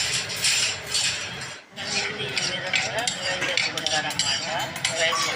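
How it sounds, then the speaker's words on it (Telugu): Spoon scraping and clattering against a pot as chicken dum biryani ingredients fry and get stirred, a steady, busy, fairly close metallic rattle with a brief pause partway through. "చూడండి, ఫ్రై చేస్తున్నాను అన్నమాట."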